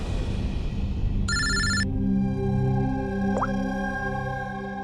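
A telephone bell rings in one short electronic burst, followed by a steady tonal hum and a brief rising chirp. The ring is moderately loud against a quiet room background.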